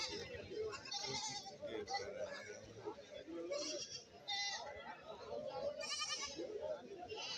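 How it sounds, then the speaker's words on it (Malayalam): Goats bleat repeatedly at a busy open-air goat market in Kerala, several animals calling close by in overlapping cries over a steady crowd murmur and background talk. "പിന്നെ ഒരുപാട് ആടുകൾ നല്ലൊരു സൈസിൽ മുട്ടനാടിനെ വാങ്ങി ഇവിടെ കെട്ടിയിരിക്കുകയാണ്."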